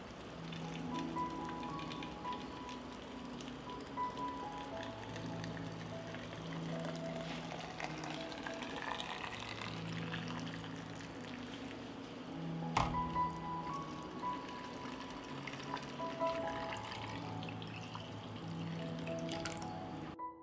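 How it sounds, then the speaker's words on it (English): Boiled water poured into glass jars packed with watermelon, a continuous splashing trickle with faint clinks and a brief knock partway through, close and moderately quiet, with no talk. "I pour boiled water into jars."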